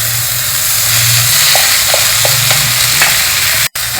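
Wheat rava and moong dal roasting in an oil and ghee mix, giving a steady close sizzle with faint stirring scrapes and a low hum beneath, then a brief cutout near the end.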